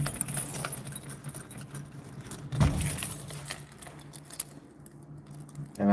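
A bunch of keys jangles and clinks near the listener while a door is being unlocked, in irregular metallic bursts with a louder rattle midway and quieter fumbling after.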